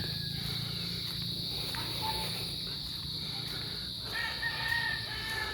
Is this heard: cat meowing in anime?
no